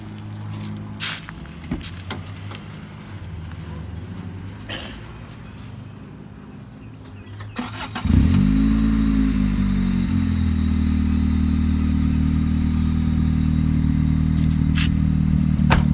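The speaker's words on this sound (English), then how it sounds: "Now, I'll start it up so you guys can hear." A Honda Civic hatchback's turbocharged engine cranks and catches after some clatter of handling, then settles into a loud, steady idle rumble up close.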